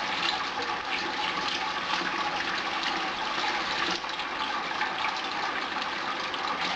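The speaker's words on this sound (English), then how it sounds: "the sparge not dropping the water too hard into the bloody grain bed" Sparge water pours from above onto a grain bed through a top plate during a smoked amber ale brew, a steady, continuous splashing rush running unbroken at even volume throughout.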